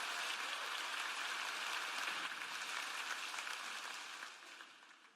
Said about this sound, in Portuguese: dê um aplauso para eles